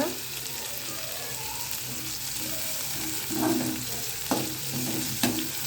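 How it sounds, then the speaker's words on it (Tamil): Onions sauté in a pan for egg gravy, a constant sizzle broken by a few louder scraping stirs toward the end. "வெங்காயம் நல்லா பொன்னிறமாக வதங்கணும், அது வரைக்கும் வதக்கி எடுத்துக்கோங்க."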